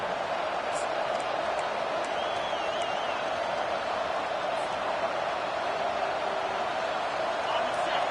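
Stadium crowd at a college football game with Texas A&M, a steady broad roar of many voices held at a constant level throughout, distant and unbroken, with a commentator's voice faintly over it at times.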